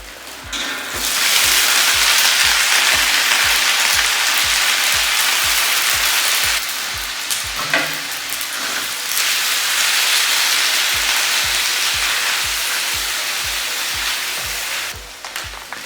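Onions browning in oil in a pan for tartiflette give a loud, steady sizzle that fills the whole stretch, with a regular low thumping beat running underneath.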